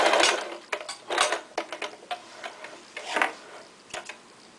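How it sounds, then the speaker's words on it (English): A sewing machine runs in short bursts while back tacking the end of a seam joining two fabric strips, quiet mechanical stitching that stops and starts several times, with no talk. "we now want to back tack at the end as well."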